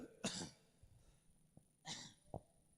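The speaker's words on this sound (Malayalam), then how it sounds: "എനിക്ക് ചുമ ഉള്ളത് കൊണ്ടാണ് ഞാൻ ഈ ചുമക്കുന്നത്" A preacher with a cold lets out two harsh, close coughs about a second and a half apart, with soft breathing and small throat sounds in between.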